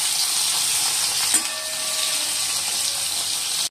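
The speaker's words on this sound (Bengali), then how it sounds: "এই বন্ধুরা, পটলগুলো ভেজে নিচ্ছি, লাল লাল করে ভেজে নিচ্ছি।" Pointed gourd pieces fry in hot oil in a pan until reddened, giving a continuous loud hissing sizzle close by, with one brief clink partway through and no voices.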